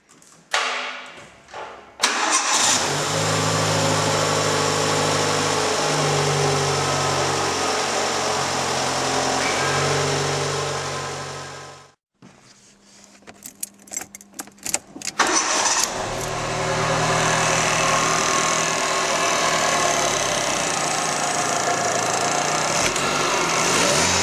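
Fiat Cinquecento engine, just after a head gasket repair, cranks and catches, then idles loudly close by with a steady, slightly uneven hum; it stops, is cranked again with clattering thumps, and restarts into a steady idle.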